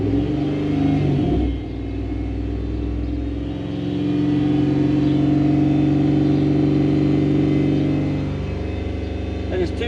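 A Toyota Hilux Xtra Cab fitted with a 1UZ V8 runs at raised revs of about 2,800 rpm instead of idle, producing a loud, close, steady rumble that dips and swells slightly.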